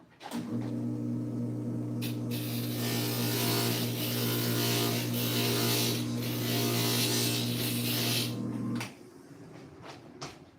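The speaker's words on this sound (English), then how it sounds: "Let me grind that one little bit more." A small rotary grinder works steadily on a tiny fitting piece for a craft build, a continuous close buzz with a low hum lasting about eight seconds before cutting off, followed by a few light taps.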